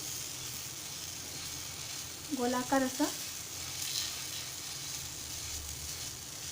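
Malvani-style malpua batter sizzles on a hot tava griddle in a steady, soft frying hiss, with a brief spoken remark partway through.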